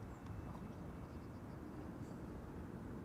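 An Air Serbia airliner departs Amsterdam Schiphol Airport for Belgrade, heard as a steady, distant low jet roar that holds evenly throughout at a faint level.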